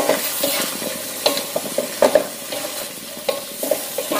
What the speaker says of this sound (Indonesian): Kita aduk lagi.